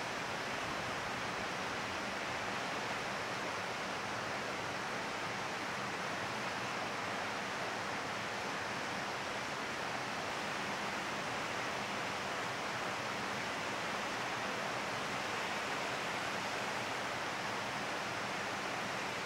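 Steady broadband rush of a lovely mountain stream flowing in the shade of trees in the Eastern Sierra Nevada, a continuous close wash of water with no pauses and no voices.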